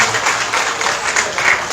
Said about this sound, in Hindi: इसलिए एक बार ताली बजाओ तुम लोग